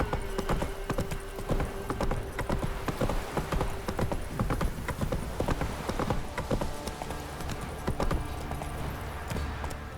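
Roach the horse trots steadily in The Witcher 3, a rapid, continuous clip-clop of hooves that stays loud and near for the whole stretch, with a faint whinny and a brief spoken word in passing.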